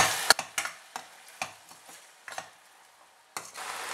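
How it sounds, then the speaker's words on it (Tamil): Tomatoes and rock salt frying with onions in a pan, a soft steady sizzle broken by several sharp spoon scrapes and stirring knocks, close by, with no voices. "இது ஒரு 2-3 நிமிஷத்துக்கு நல்லா குக் பண்ண விட்டுடலாம் தக்காளியை."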